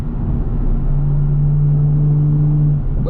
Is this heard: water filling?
no